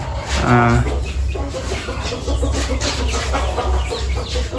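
Chickens in a decorated coop fitted with a cooling fan cluck and call continuously at close range, with one louder squawk near the start and a low steady hum beneath.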